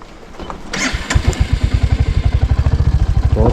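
A motorbike engine runs hard and close while being ridden downhill on a forest road, its exhaust thumping in a fast, steady pulse that grows from a rougher start.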